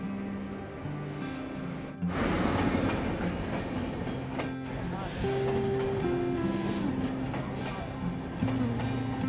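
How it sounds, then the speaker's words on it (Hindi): Champaran Humsafar Express, a Katihar–Delhi train, pulling into platform 2 at Khagaria station in Bihar, with a steady, loud rumble of rolling wagons and wheel clatter that swells after the start and continues throughout. "बस कुछ ही देर में खगड़िया के 2 नंबर प्लेटफॉर्म पे आ रही है भैया कटिहार से दिल्ली जाने वाली चंपारण हमसफर एक्सप्रेस"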